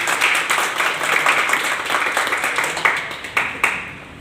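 Audience applause at a network marketing meeting, a sustained crowd of clapping hands at moderate distance that swells and tapers over several seconds, with a few louder individual claps near the end.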